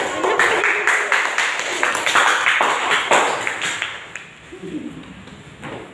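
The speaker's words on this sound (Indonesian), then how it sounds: "Ya, tepuk tangan yang buat Kak" Classroom applause for a student: a dense patter of clapping hands that runs for several seconds and then fades, with voices talking over it.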